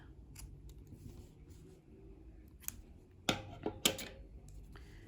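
Scissors snip through crochet yarn while a crocheted coaster is finished: two crisp, close cuts about half a second apart, set against a quiet room with faint handling noise.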